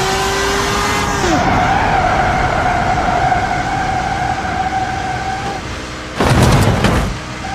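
A cartoon Ferrari brakes hard, its engine note dropping into a long tonal tire skid, followed by a loud, brief burst of noisy impact or scrubbing near the end.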